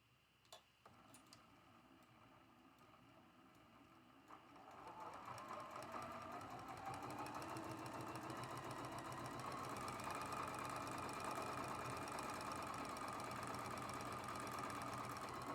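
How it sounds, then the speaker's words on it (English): A sewing machine runs steadily, stitching a quarter-inch seam on an hourglass quilt block, starting after a few soft clicks and settling into a fast, even whir up close. "We're going to go ahead and sew that with a 1/4 inch seam allowance."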